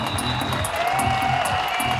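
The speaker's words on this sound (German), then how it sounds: "Applaus" Audience applause at a public talk, a steady patter of many hands clapping at a moderate distance, with faint tonal hum underneath and no speech.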